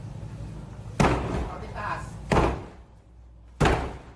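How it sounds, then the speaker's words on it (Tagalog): Three heavy, booming impacts from a battering ram strike a house door during a police raid at roughly even intervals, with talk in the background between them. "Nakadakang pinto ng bahay, kaya gumamit sila ng battering ram."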